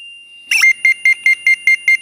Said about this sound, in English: The beeping tone indicates my clamp's low frequency is operational.